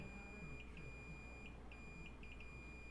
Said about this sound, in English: we're getting a beep from whatever this trace is